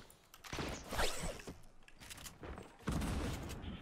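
Fortnite gunfire crackling in faint, rapid bursts of shots, with several distinct volleys and a sharper, louder burst toward the end.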